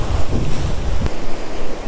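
Wind and surf at the sea shore, with strong gusty wind noise buffeting the microphone over the wash of waves, loud and continuous throughout.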